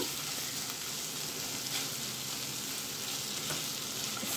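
Steady, close sizzling of ginger garlic paste frying in a pan for tomato upma, with faint stirring and no voices.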